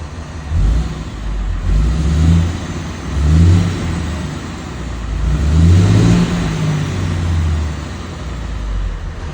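A Dodge Sterling Bullet pickup with a swapped-in G56 manual transmission revs close by, the engine rising and falling in several throttle blips over a steady idle.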